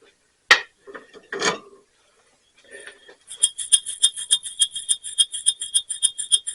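Lead shot rattling inside the weights of a planetary gear mechanism, with a few knocks and clinks first, then a rapid run of bright metallic rattles, close and clear, with no speech.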